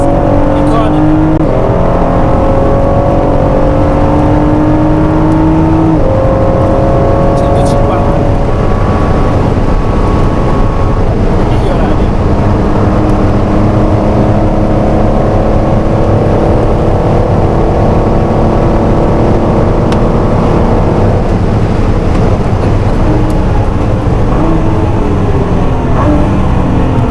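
A Ford GT at high speed on a race track, around 280 km/h, its engine droning loud and close from inside the car with steady pitch shifts through the gears. Someone talks over it at times.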